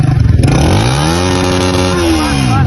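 A loud, close motorcycle engine putters and revs, its pitch rising and falling in a steady drone.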